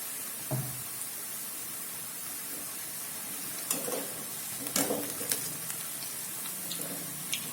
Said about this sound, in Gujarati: તો ક્રિસ્પી થાય તે રીતે તેને આપણે તળીશું